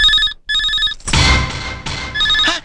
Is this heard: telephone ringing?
yes